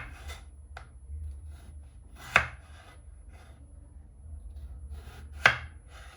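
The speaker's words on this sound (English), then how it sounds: "Peel your potatoes, wash them well, then I'm going to slice them as shown in this video." A knife slices peeled, washed potatoes on a board, producing two sharp, close knocks a few seconds apart, with lighter cutting taps in between. No voice is present.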